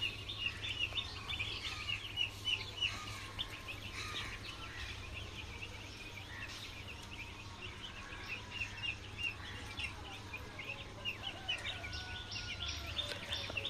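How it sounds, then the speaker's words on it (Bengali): Six-day-old chicks give faint, high peeping chirps in repeated bursts against a low steady hum, with no talking. "আজকে কিন্তু আমার মুরগিগুলোর বয়স 6 দিন"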